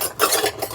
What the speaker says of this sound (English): I got my silverware kind of loose in there